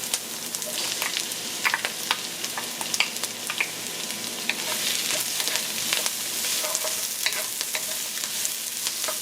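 Curry leaves, ginger, scorpion pepper and garlic frying in hot oil, a continuous close sizzle with crackling pops and occasional stirring scrapes, no voices.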